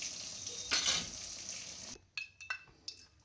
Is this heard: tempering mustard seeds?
yes